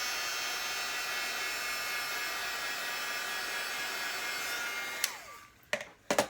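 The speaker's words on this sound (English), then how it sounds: "Go ahead and let that dry, or hit it with your heat tool." A heat tool blows steadily at close range while drying a stamped paper card, a continuous loud whoosh that cuts off near the end, followed by a few clicks and handling sounds.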